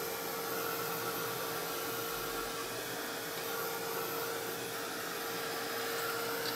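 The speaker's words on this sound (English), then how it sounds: "then I'll go back in with the heat gun" A heat gun blows steadily over an art journal page, a constant airy whoosh with a faint tonal hum that holds at even loudness throughout, with no talking.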